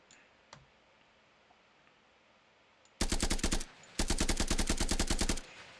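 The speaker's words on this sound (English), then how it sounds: "And then third weapon is assault rifle." Assault rifle firing in a first-person shooter game, two sustained bursts of rapid, sharp, evenly spaced shots, loud and close, separated by a brief pause after near-silence.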